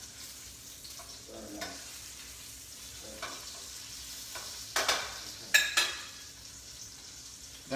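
Chicken cutlets fry in butter and olive oil, a steady soft sizzle broken by a few louder pan clatters and scrapes. A brief spoken remark comes near the start.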